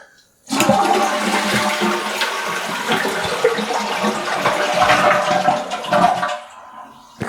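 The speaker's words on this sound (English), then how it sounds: "give this a flush to drain the tank" A toilet flushes loudly as its tank is drained with the water supply off, water rushing and swirling down the drain for several seconds before cutting off into quiet.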